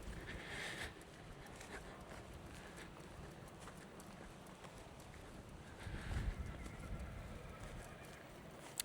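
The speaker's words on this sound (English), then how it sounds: "there is a horse whinnying very loudly somewhere in the next field behind those trees" A horse whinnies in a field behind trees, faint and distant, in a couple of brief neighing bursts over a low wind-like outdoor ambience, with a slightly stronger swell near the end.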